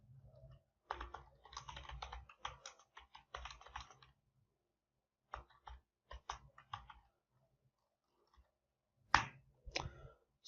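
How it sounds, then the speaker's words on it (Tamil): Quiet typing on a computer keyboard while entering a Python command, in irregular bursts of clicky keystrokes separated by pauses, close and alone with no talk. "இதில் ஃபர்ஸ்ட் கமாண்ட் நம்ம டைப் பண்ணி பார்க்கலாம்."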